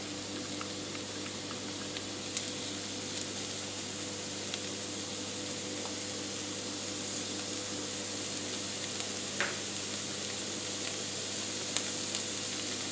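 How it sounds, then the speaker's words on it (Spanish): Chopped onion sizzles in a splash of hot oil in a frying pan over medium heat, a steady, even hiss throughout with a few faint clicks and no talking. "podemos poner un chorrito de aceite en una sartén y lo ponemos a fuego medio. Cuando esté calentito, agregamos la cebolla"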